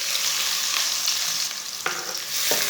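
Finely chopped onions fry in two spoonfuls of oil, hissing steadily and close up, with a few sharp spoon strokes as they are stirred toward brown.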